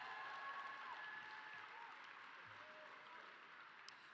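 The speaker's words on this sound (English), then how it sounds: "let's give them a last round of applause." Applause from an audience at a live-streamed art auction, a steady wash of clapping that fills the whole stretch and tapers only slightly near the end.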